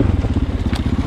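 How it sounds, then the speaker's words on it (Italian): A 2020 Husqvarna FE 501 four-stroke motorcycle engine brakes on a downhill stretch, a loud close pulsing burble with rapid regular firing beats over about a second, no talking. "in discesa il quattro tempi gli accompagna benissimo col freno motore"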